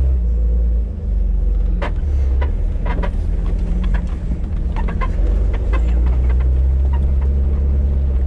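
An off-road vehicle's engine rumbles low and steady on a rocky trail, while sharp knocks and clatters from the rocks come through repeatedly, with no talking.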